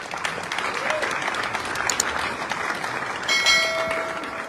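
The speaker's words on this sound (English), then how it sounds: "Please applaud them. Give them a hand." An audience applauds at a charity dinner in a hall, with dense, continuous clapping filling the room and a few brief ringing tones near the end.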